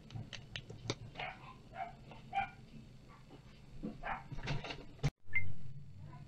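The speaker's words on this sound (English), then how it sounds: "the dogs are going crazy because we have visitors" Dogs barking excitedly indoors as visitors arrive, a series of sharp yips and barks over a busy room, followed by a loud thud near the end.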